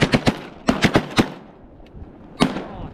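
Shotgun blasts at geese on a snowy goose hunt over big water in Pennsylvania: a rapid volley of about six sharp, loud reports in two bursts, then a lone shot after a short pause, with no talking.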